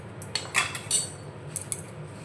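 Metal spoon clinking against a bowl while adding flour to a chira and Maggi cutlet mixture, a few light scattered taps over a quiet kitchen background.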